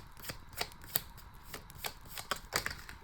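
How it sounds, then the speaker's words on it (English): Tarot cards shuffled by hand in quick, uneven riffles and slaps, close and fairly quiet, with no talking. "We'll do one last shuffle"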